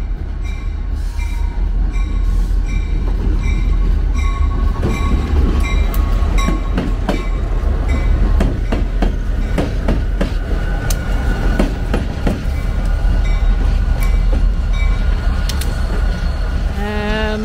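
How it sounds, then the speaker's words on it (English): Freight train led by SD40 locomotives rolling past close by, a loud continuous rumble of wheels with rhythmic clacking, clanks and faint squeals over the whole stretch. "watch these SD40s go by"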